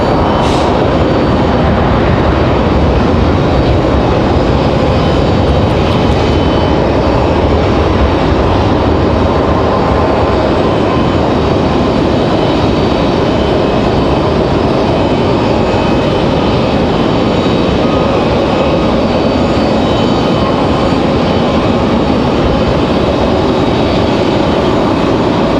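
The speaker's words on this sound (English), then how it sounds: "As the Max 8 touches down from DC." A Boeing 737 Max 8 touches down at Raleigh-Durham with a loud, sustained jet roar and rumble, including the engines spooling up for reverse thrust, holding strong for about twenty-five seconds close by.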